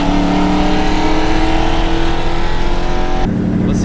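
A Mustang with a cammed 2-valve engine roars loudly and steadily as it accelerates hard, then cuts sharply near the end as it power shifts.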